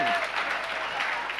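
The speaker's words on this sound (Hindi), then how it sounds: "ताली इतनी क्यों बज रही है आज?" Audience applause fills a hall during a Jain religious discourse by Vishudh Sagar Ji Maharaj, steady dense clapping held throughout at moderate level with no clear voices over it.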